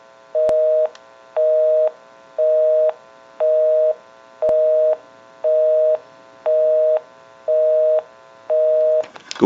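Busy signal heard through a repaired North Electric Ericofon rotary dial telephone: nine evenly spaced, steady two-tone beeps pulsing at about one per second, clear and alone.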